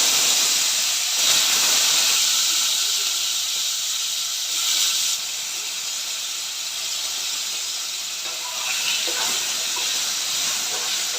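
Radish and potato pieces fry together in a pan with a loud, continuous hiss and crackle that holds steady throughout, close up and uninterrupted by talk.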